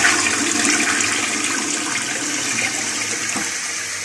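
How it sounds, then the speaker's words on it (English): A toilet is flushed as a test after being set on a floor where it sits unevenly, giving a loud, steady rush of water that runs nearly constant for the whole stretch, close up. "so give it a flush."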